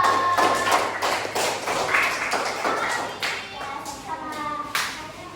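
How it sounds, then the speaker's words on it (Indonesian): A small group of students claps in scattered, uneven bursts for a presenting group, with voices talking over the applause nearby. "tepuk tangan untuk kelompok 2"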